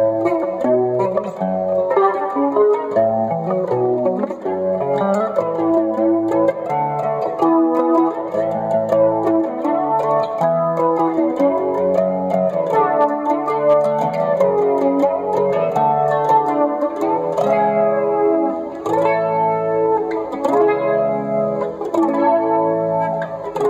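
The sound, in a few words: guitar through BYOC flanger pedal with reverb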